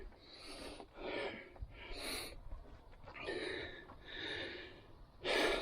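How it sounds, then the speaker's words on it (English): Heavy, labored breathing from a man out of breath after hiking up to an ancient cliff dwelling, with repeated loud gasping inhales and exhales close to the microphone, no talking. "Sorry for the heavy breathing"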